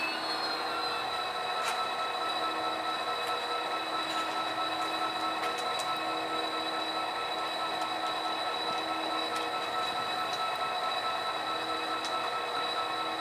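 A GP39/GP40 model locomotive runs along layout track with a steady, continuous motor whine and faint rail clicks, moderately close and with no voices.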